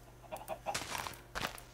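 Chickens cluck in the video game Minecraft, several soft clucks and squawks over a quiet game background.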